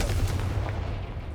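Confringo blasting spell in the Hogwarts Legacy video game: one dense, booming, explosive burst, loud and heavy in the low end, sustained through the short moment with no voices.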